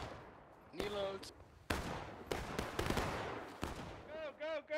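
Musket volley fire in the War of Rights video game: several sharp, loud blasts ring out one after another in an uneven sequence, with shouting voices and game sounds between them.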